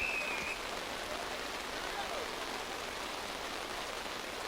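Steady rain hiss falls during an under-20 rugby league match in Harare, an even, broadband wash of sound throughout with no clear voices.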